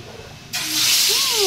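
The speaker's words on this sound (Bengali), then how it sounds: "তো কড়াই বসাই দিয়েছে মাছ ভাজার জন্য।" Hilsa fish goes into hot oil in a kadai. After half a second of quiet, a sudden loud, broad hiss bursts up and keeps building, with a faint voice-like tone rising underneath.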